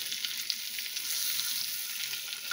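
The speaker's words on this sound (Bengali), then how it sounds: "এই দেখুন আমি একটু চিমটি দিয়ে উল্টে দিচ্ছি, তাহলে সুবিধে হবে।" Chicken kabab pieces fry in a hot pan at home with a steady, bright hiss of oil and faint spits and taps as tongs turn them, close up with no talk.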